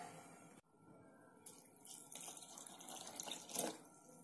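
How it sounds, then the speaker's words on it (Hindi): Flattened rice (poha) being washed by hand in a bowl of water, with splashing and trickling that starts after a brief pause and builds unevenly, close and fairly quiet. "इस तरह हम एक बार और वॉश करेंगे इनको अच्छी तरह।"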